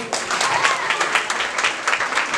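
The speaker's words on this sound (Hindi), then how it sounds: "आप खूब ताली बजाइए।" An audience at a Christian prayer meeting claps along in a steady, rhythmic, moderately loud stream of many hands, sounding close and continuous without pauses.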